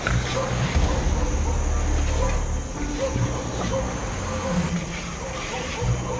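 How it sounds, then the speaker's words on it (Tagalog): A pack of dogs barks amid busy, noisy game action, the barks partly buried under a voice talking and constant background clutter. "Maraming aso dito."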